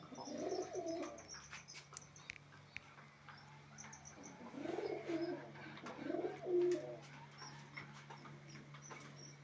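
Pigeons brooding on their eggs give soft, low cooing phrases in a few separate bursts, fairly close but quiet over a steady background hum, with scattered faint clicks.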